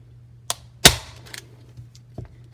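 A staple gun fires staples into a stretched sublimation-printed canvas: a few sharp, close snaps spaced irregularly, one louder than the rest, with quiet in between.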